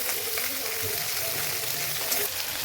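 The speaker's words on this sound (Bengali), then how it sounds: "মাছের মাথা দিয়ে বাঁধাকপি চচ্চড়ি করছি" Fried fish head, cabbage, onion, green chili, tomato and five-spice cooking together in a pan, a dense, steady, close sizzle that carries on evenly throughout with a few faint stirring noises and no clear talk.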